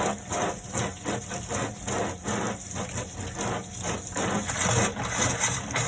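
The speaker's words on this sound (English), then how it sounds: "Mixer tap there." Water running steadily from a mixer tap in a Burstner Harmony T625 camper van, a continuous close splashing rush with slight fluctuations and no speech.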